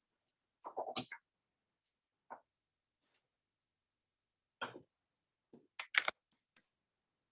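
Light typing on a computer keyboard comes through as sparse, faint bursts of clicks separated by long silent gaps.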